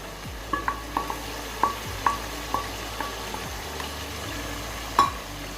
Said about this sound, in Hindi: अब ये हमारे पास जो प्याज और टमाटर का पेस्ट है वो डाल देंगे